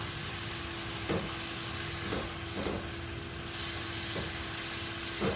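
Shrimp fry in a home pan for spicy shrimp and pork fried rice, giving a steady, moderately loud sizzle with a few soft stirring knocks and no talking.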